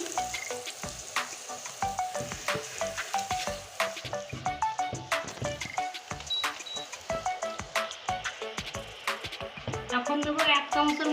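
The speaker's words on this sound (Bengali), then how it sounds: "আর এখানে আছে চিড়ে রাখা কাঁচা লঙ্কা এটাও দিয়ে দিচ্ছি তেলের উপরে" Slit green chillies fry with onion in oil, a close, continuous crackling sizzle dotted with rapid ladle taps and stirring scrapes throughout.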